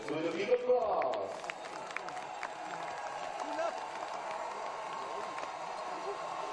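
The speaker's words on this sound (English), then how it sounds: "With a big applause." Crowd at a biathlon world championship men's 20 km individual race in Pokljuka, Slovenia, applauding as a steady, fairly distant wash of clapping and cheering under continuous talk.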